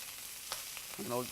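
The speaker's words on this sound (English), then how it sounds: "So you want to hear that sizzle immediately." Faint sizzling of beef tenderloin in a very hot, smoking pan, a soft crackling hiss with a brief voice sound near the end.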